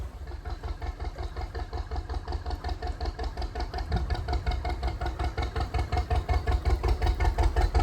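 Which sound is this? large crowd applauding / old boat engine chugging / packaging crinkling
old boat engine chugging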